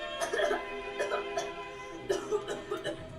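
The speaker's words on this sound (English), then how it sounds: "Okay, starts off with coughing." Several short coughs come in a couple of clustered bursts against a faint musical background, moderately close and not especially loud.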